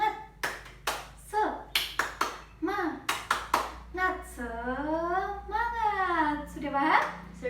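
A primary school class claps out the tepuk semangat rhythm in quick, sharp bursts, then children's voices chant and sing along in a classroom.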